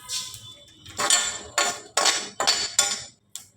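Cinnamon and fenugreek dry-roasting in a pan for a North Karnataka spice masala, heard as a run of sharp metallic scrapes and clinks from a spoon working the pan, about six distinct strokes, close and fairly loud with no talking.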